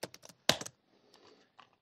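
Computer keyboard keys pressed in a quick burst of close clicks, including a shift-enter combination, followed by a few softer, scattered taps, with no voices.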